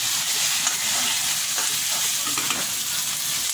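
Chicken frying in a pan with ginger-garlic paste, giving a steady loud sizzle throughout with faint scraping of a stirring utensil, no voices.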